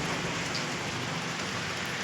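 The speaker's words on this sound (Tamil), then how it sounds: "மழை இருக்குது." Rain falls steadily outdoors, a continuous broad hiss of drops close by without breaks.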